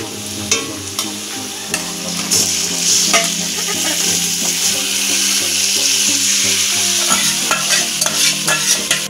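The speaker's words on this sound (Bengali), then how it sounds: "পেঁয়াজটা খুব ভাজা ভাজা হয়ে গেছে, বাদামি কালার হয়ে গেছে। এবারে চিকেন কষাটা দিয়ে দেবো।" Pieces of braised chicken go into onions fried brown, giving a loud, close, continuous sizzle with repeated scraping stirs of a spoon and occasional clinks against the pan.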